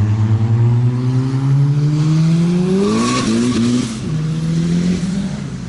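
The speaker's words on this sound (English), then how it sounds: "It's an orange Honda, and all he does is love doing rolling burnouts." An orange Honda car does a rolling burnout, its engine revving loud and steady with rising pitch and a faint tire squeal as it accelerates up close.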